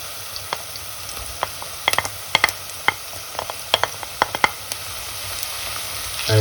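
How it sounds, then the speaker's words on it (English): Pancetta fries over high heat in a farmhouse kitchen pan, a low steady sizzle dotted with sharp spitting pops at irregular intervals, ending with a brief thump. "I'm on a high heat now, and I'm going to add the pancetta."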